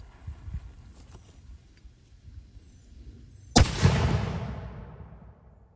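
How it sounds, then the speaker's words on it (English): A lead cannonball fired at a watermelon target 100 yards away, heard as a single loud boom with a long rumbling decay after a few seconds of faint outdoor background. "we're gonna see if we can take out a watermelon with a lead cannonball at this distance"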